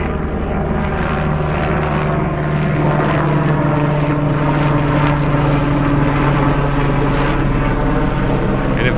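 A Flight For Life medical helicopter circles overhead, its steady rotor and engine drone loud and continuous throughout with a strong low hum and no one speaking.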